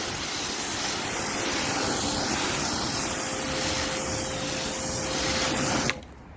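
A sealant spray hisses steadily and close onto a car's painted surface, a continuous airy spray lasting several seconds before stopping abruptly.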